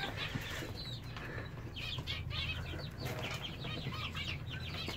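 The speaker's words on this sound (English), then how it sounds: "They're looking like little baby chickens." Young chickens cluck and peep softly at close range, with wings flapping now and then over a steady low background hum.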